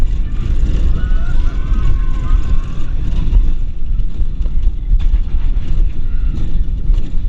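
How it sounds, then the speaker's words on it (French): An Aeros roller coaster train at Parc Asterix rumbles and rattles with strong continuous vibration, a loud, steady mechanical roar and clatter heard from on board. "c'est le train qui vibre à fond"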